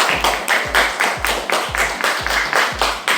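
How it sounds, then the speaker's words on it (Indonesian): A class of pupils in an Indonesian school claps in unison, a loud, evenly spaced rhythmic pattern of about seven group claps, each crisp and close. "Tepuk tangan dulu."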